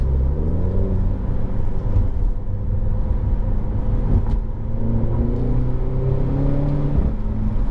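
A Renault Clio 4 RS Trophy 2017 engine drones and revs steadily with a deep rumble, the pitch rising and falling; faint exhaust crackles and pops break through the exhaust note, recorded from behind the car.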